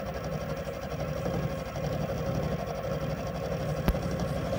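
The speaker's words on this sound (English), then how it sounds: "Now it's time to machine that step." A milling machine cuts a one-millimetre step in metal for a custom motorcycle trike build, with a steady mechanical drone and rapid rhythmic chatter that runs evenly throughout and one brief sharp tick near the end.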